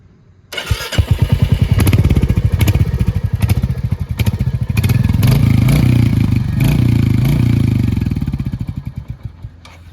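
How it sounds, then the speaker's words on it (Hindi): A Royal Enfield Hunter 350 single-cylinder motorcycle with its stock exhaust fires up and thumps steadily with a deep, loud exhaust note, revving up and settling back to a rhythmic idle nearby. "मैं आपको इसकी एक आवाज़ सुना दूँ इसकी स्टॉक एग्जॉस्ट की"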